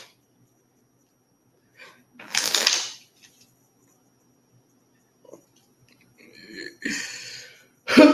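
Cards are handled and shuffled close up in a few short riffling bursts, separated by near silence, with no speech over them.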